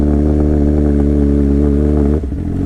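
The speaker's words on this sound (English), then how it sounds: "Give it some throttle and go." A motorcycle engine throttling up while pulling away on a hill, a steady loud mid-pitched drone held close and constant, then a brief dip and rough change in tone near the end.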